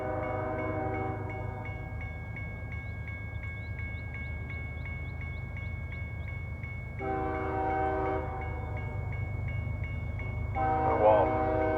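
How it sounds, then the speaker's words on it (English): A long southbound CSX mixed freight train rolls past on a curve, a steady low rumble of cars under repeated loud horn blasts, with a faint high pulsing tone running above. "We got a CSX train coming."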